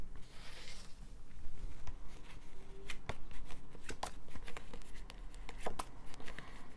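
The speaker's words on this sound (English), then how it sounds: "But while I am shuffling," A deck of tarot cards is shuffled by hand in a quiet room, a run of close, crisp riffling snaps and soft slides that repeat irregularly for several seconds without speech.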